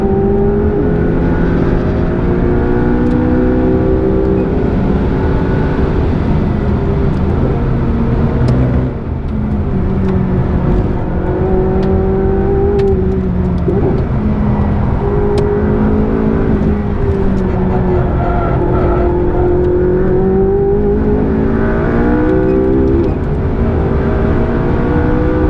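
A McLaren 675LT race car on slick tyres lapping a track, its engine droning loud and continuous from inside the cabin, pitch rising and falling through gear changes and revs with no talking.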